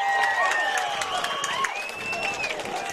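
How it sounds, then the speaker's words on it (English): Crowd at a men's amateur football cup championship match, Croatia SC against BB5 United, giving a brief wash of clapping and approving cheers, with a whistle-like tone and commentary voice over it. "The Croatian crowd approves."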